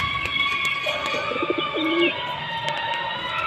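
Pigeons perched on a rooftop umbrella give soft, low throaty coos, a few short rolling calls close by over faint background noise, with occasional higher chirps from other birds.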